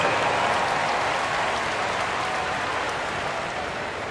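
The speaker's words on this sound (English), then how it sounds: "Fans, please give a big round of applause for your dance team." Steady crowd applause and cheering in the WNBA 2K26 basketball video game fills the whole stretch, a dense wash of clapping that holds loud throughout and eases off only slightly at the end.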